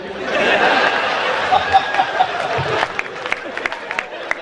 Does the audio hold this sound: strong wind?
no